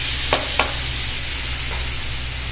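Finely chopped onions frying in a pan for a simple pasta dish, giving a steady close sizzle with a couple of brief stirring scrapes and no talking.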